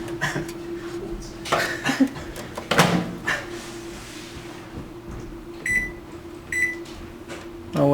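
A microwave oven runs with a CD inside, a steady low electrical hum throughout, broken by scattered crackles and pops and a few sharp high-pitched sparking bursts near the end.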